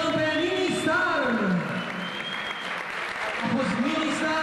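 An audience at a children's performance at the 2009 Expo Transilvania in Cluj claps loudly and continuously, with someone speaking over the applause.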